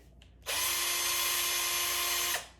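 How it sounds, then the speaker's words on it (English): A Harbor Freight power drill whirs steadily for about two seconds, a loud, close, even motor whine that starts abruptly and winds down at the end. "So I'm gonna demonstrate how it drills."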